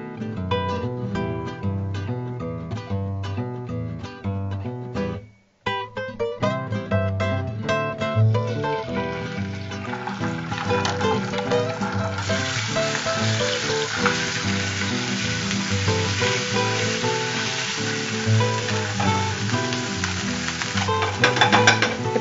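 Fennel seeds and ginger-garlic paste fry in hot oil in a pan, giving a continuous close sizzle with occasional stirring, layered under steady background music.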